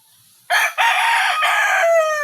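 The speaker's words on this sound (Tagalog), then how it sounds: "tatlong tilaok lang ng talisayin" A talisayin rooster crows once, loud and close, in a strong drawn-out call lasting nearly two seconds that ends on a rising, straining note.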